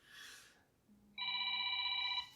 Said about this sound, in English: Oh, the phone, excuse me